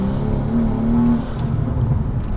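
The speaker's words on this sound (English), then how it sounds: "I'm gonna go ahead and do like a little mini pull just so you guys can see the wheel spin." A car on Mickey Thompson drag radials makes a short pull with wheel spin, its close engine note rising for about a second and then falling back to a rough idle.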